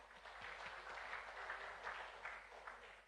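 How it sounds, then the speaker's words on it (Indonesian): Applause from a church congregation: a steady wash of many hands clapping at once, faint and distant, with no voices over it. "Tepuk tangan buat mereka."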